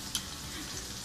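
Mushrooms sautéing in olive oil sizzle softly and steadily in a pan, with one small pop near the start and no voices.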